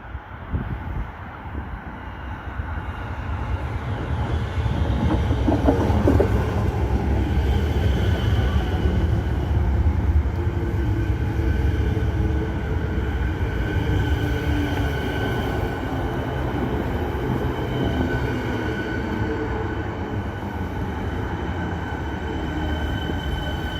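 A Siemens electric train runs on Melbourne's Belgrave Line, its steady loud rumble of wheels and motors filling the whole stretch with faint squeals, heard from on board or close by and without talk.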